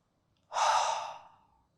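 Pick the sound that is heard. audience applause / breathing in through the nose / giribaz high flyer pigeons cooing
breathing in through the nose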